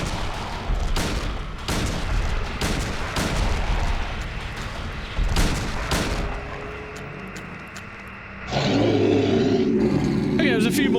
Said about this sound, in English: I can't wait to kill him in like 1 or 2 shots of the pistol.